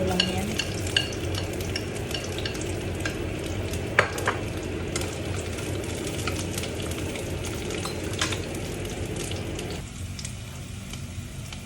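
Garlic, onion and vegetables stir-fry in a pan, making a continuous close sizzle broken by scraping stirs and occasional clinks of utensil on metal.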